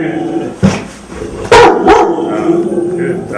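Barks from Chance, a roughly two-year-old dog believed trained as a hunting bird dog, meeting visitors at the door: a few sharp, loud barks close by, spaced out over a few seconds.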